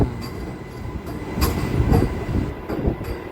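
A MEMU train rolls into Tanuku railway station, loud rumbling wheels and car noise close by, with rhythmic clacks and squeals over the steady roar.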